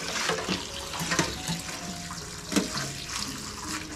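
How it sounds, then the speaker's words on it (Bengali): About 1.5 kg of small prawns are washed under running tap water, with a continuous splashing stream and intermittent clatter and sloshing from handling. "ভালো করে ধুয়ে নিই।"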